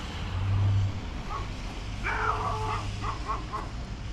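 Two golden retrievers bark outdoors in winter, a short series of distant yips and barks over a steady low rumble of nearby road traffic.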